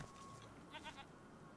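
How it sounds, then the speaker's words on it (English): A startled sheep bleats in the fantasy role-playing game Divinity: Original Sin II, a short wavering cry of a few pulses rising over a faint, steady game ambience, fairly quiet and without speech over it. "there's a rather shocked sheep here"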